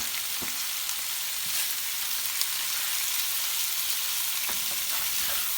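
Beef, portobello mushrooms and vegetables frying together in a pan for a stir fry, a loud steady sizzle with occasional stirring clinks and scrapes, no talking.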